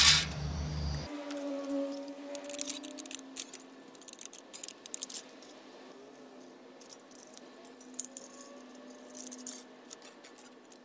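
Scissors cut out small pieces for a homemade telegraph key built from everyday materials, a series of quiet crisp snips and scraping clicks at close range with no talking.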